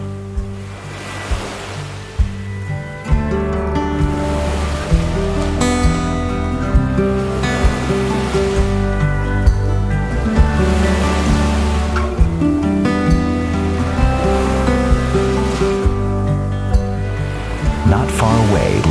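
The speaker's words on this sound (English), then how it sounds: "an incoming wave crashes in to create a perfect balance" Ocean waves break and wash near scalding geothermal pools on the New Zealand coast, a loud, surging surf with rhythmic swells and splashes rolling through the whole stretch, and music underneath.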